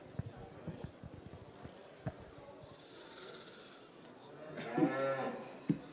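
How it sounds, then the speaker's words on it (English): Dairy cows low in a show ring at an agricultural show, with a long moo near the end over hoof thuds and crowd murmur at a showground. "there's some lovely dairy cows in the ring today"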